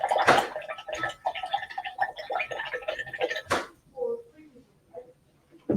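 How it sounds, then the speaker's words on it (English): Water sloshes and splashes as a paintbrush is rinsed out in a water container during an acrylic painting session, with a few drips and swishes, fairly close and moderately loud. "rinse out your brush"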